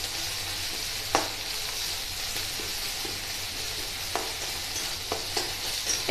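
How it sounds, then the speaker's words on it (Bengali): Ginger-garlic paste fries in a pan with a steady sizzle, broken by several sharp scrapes and taps as it is stirred. No one speaks. "আদা রসুন বাটাটাও একটুখানি সামান্য নেড়ে নিচ্ছি"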